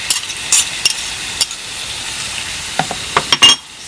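Spaghetti sauce with tomato paste gets stirred in a hot pan, soft sizzling under scattered utensil scrapes and taps, with a quick cluster of clinks near the end.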